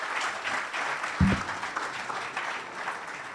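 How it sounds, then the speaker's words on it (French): A crowd applauds at a political gathering for a joint PDCI-RDA and PPA-CI declaration, with sustained moderate clapping and one brief thump near the middle. "Sous vos applaudissements,"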